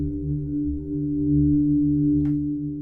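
A sustained, smooth Omnisphere synthesizer pad run through its granular engine holds low, layered tones with a gentle swelling pulse, alone and steady, with one brief high shimmer near the end.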